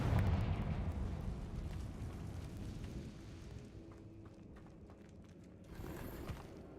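Confringo spell blast exploding in the Hogwarts game, opening with a loud, heavy boom that rumbles and slowly fades, followed by a second, shorter burst near the end.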